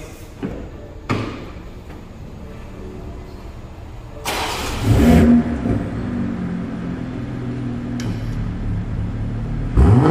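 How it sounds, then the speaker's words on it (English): A BMW M240i with a performance exhaust starts and revs, giving sharp bursts and a rising engine roar midway, then a steady idle rumble with a few short sharp knocks or slams nearby. "By the way, this is an exhaust performance."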